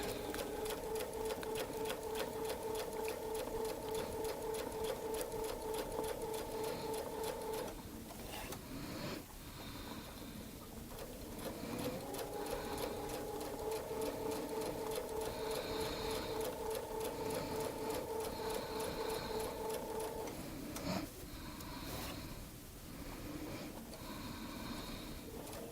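A sewing machine stitches curved arcs of a Baptist fan quilt pattern, running in long continuous whirring stretches with a steady motor drone, pausing briefly twice before resuming, close and fairly loud with no talking.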